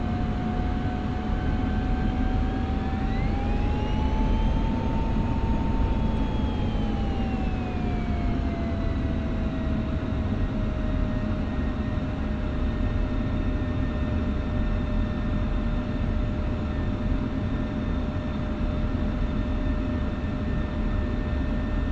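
F-16C jet engine idling in DCS World, a steady loud turbine roar with a high whine that rises briefly, then settles and holds at a constant pitch throughout, no talking.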